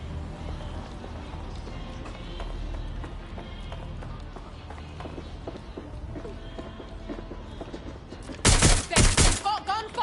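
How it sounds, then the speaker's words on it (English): Distant rapid gunfire patters under a steady rumble, then a loud close burst of several sharp shots crackles near the end. "We've got gunfire."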